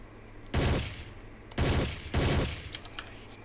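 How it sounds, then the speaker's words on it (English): Automatic rifle fire in Ghost Recon, three loud sustained bursts of rapid shots separated by short pauses, close and sharp against quiet background hum. "I am not used to using automatic fire."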